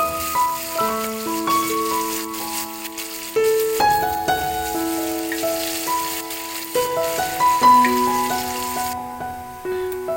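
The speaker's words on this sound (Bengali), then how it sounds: "পেঁয়াজ কুচিগুলোকে ভালোভাবে বাদামি করে ভেজে নেব।" Chopped onions with dried red chillies fry in oil until brown for a Bangladeshi fish-head mung dal, giving a steady, close crackling sizzle that runs beneath a melodic instrumental tune throughout, with no talking.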